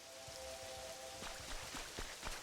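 Rain falls steadily in the Pokémon Pokopia video game, a soft continuous patter with scattered drop taps, fairly quiet under a faint tonal hum.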